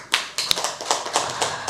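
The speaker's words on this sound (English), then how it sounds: "join me in giving him to round an applause for Pak Lili." A small audience at a geography education conference session claps for a speaker, a loose scatter of separate, fairly close hand claps that never merge into a full roar.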